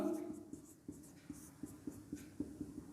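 Chalk or marker taps and strokes on a board during a math lesson, with a series of short, distinct, fairly quiet knocks in an irregular rhythm, some spoken voice faintly present at the start.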